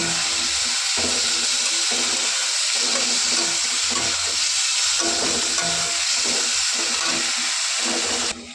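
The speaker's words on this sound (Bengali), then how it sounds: "এবার আমি এর মধ্যে দিয়ে দেবো চিংড়ি মাছ।" Salted, turmeric-coated prawns frying in a pan, a loud steady sizzle with hissing crackle that holds evenly until it drops off abruptly at the end.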